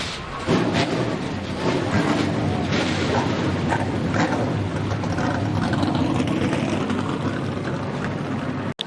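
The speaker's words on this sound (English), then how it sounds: "drivers, start your engines." Several powerful ARCA race car engines fire up together at the start of the Dawn 150 and roar steadily, loud and close, ending in a sharp click.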